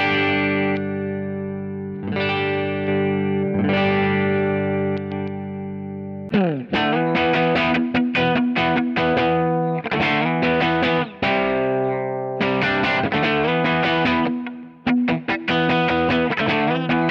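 A mid-gain electric guitar plays through a Kemper profile with reverb, delay and chorus, giving a glassy, articulate tone. Loud ringing chords and picked phrases come in bursts, separated by brief pauses and trailing echoes.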